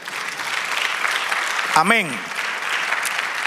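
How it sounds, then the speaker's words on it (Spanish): Church congregation applauding, a steady wash of clapping running throughout, with a voice saying a short word partway through. "Dale aplauso al Señor."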